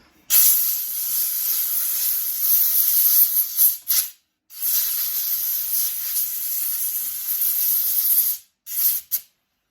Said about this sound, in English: the first thing I'm gonna do is blow some air